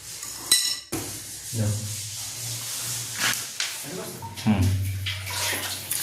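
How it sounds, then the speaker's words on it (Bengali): Cement being mixed with water by hand during a commode fitting job, with wet scraping, sloshing and rubbing sounds that run on and off, close by, and someone speaking over parts of it. "এখন আমরা জল দিয়ে সিমেন্টটা গুলিয়ে গায়ে লাগিয়ে দেবো"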